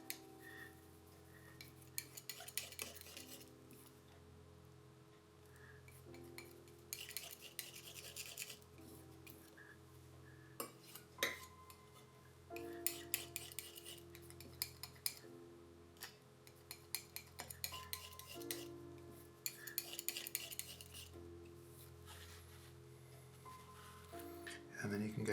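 Oil paint, mostly white, being worked with a palette knife on a palette, making soft repeated rubbing and scraping strokes close by over a quiet musical background.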